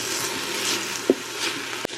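Garlic and ginger fry in a pan for a vegan chickpea chana masala, a steady close sizzle broken by a soft spoon tap midway and a sharper knock near the end as the mixture is stirred.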